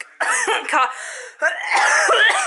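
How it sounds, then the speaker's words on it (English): Someone coughs repeatedly in rough, harsh bursts at close range, with throat-clearing sounds between fits, irritated by freshly cut peppers and onions. "I just keep coughing. It's so bad."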